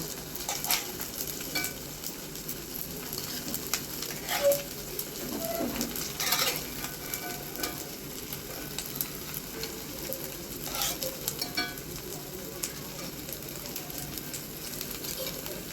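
Fig kebabs fry in a pan, turned to brown the second side: a steady, fairly quiet sizzle runs throughout, with a few louder spatters and utensil scrapes around the middle, and no voices.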